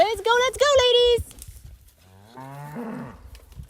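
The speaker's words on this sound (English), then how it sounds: "helping a local rancher gather up his cows" Cattle being gathered and driven by a rancher through a mountain valley: a loud, close drawn-out moo, then after a pause a second, lower and softer bellow, with faint rustling in between.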